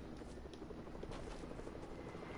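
An aircraft flies overhead in a multiplayer battle game, a steady droning rotor-like hum with fluttering beats that stays loud and continuous throughout with no talk.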